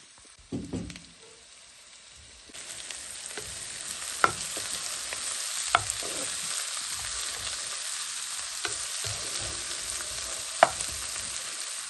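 Onion, two green chillies and curry leaves dropped into groundnut oil for mutton liver fry, a sizzle that surges after a couple of quiet seconds and hisses steadily with occasional spatula taps.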